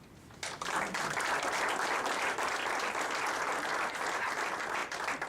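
A crowd at a high school Hall of Honor event bursts into applause after a brief quiet moment, a loud, sustained round of clapping that carries on to the end.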